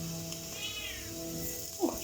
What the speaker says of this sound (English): you can probably hear Motley there in the background accompanying me. My delightful cat